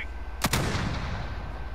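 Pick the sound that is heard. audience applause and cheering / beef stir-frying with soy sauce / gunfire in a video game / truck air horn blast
gunfire in a video game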